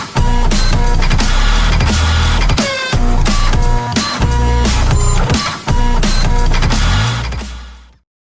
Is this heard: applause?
no